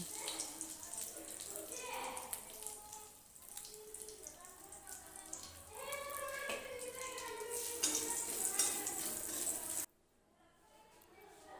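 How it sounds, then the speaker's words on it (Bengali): Dried red chillies and bay leaves hit hot oil and sizzle in a close, bright, crackling hiss that swells and stays steady, then drops away sharply near the end. "এরপর ওই তেলের মধ্যেই শুকনো লঙ্কা, তেজপাতা ফোড়নে দিয়ে দেব"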